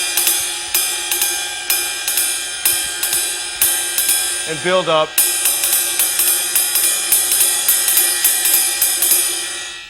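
A jazz ride pattern is played with the right hand on a cymbal in an even swung rhythm of bright, ringing strokes, loud and close, briefly broken by a short spoken phrase.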